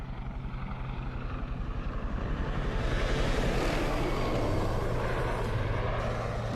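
Helicopters fly over a riverbank in a movie scene, their rotor chop and engine drone swelling to a near, loud, continuous throb with no speech.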